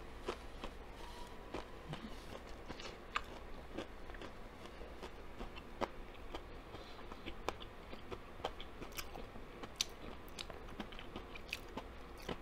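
Someone bites into spicy, crispy fried chicken and keeps chewing, giving a quiet, close series of crunches at a fairly regular pace with no talking.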